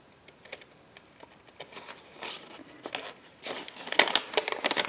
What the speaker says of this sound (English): it's a little bit easier to trim off a portion of this with a pair of scissors